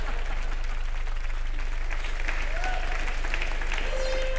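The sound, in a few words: audience applause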